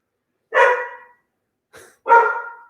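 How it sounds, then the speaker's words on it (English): Dogs bark in a home: one sharp bark, a short pause, then a weaker yelp and another loud bark, close and clear against silence. "those are my dogs in the background"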